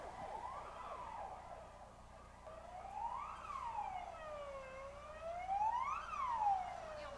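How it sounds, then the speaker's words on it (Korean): A fire pumper truck, ambulance and police car arrive at an emergency safety drill in Changwon, South Korea, their sirens overlapping. The rising and falling wails are moderately distant and fairly faint, repeating steadily with no talk. "출동 지시를 받았던 석전센터의 펌프차 및 구급차 그리고 경찰차가 현장에 도착하고 있습니다"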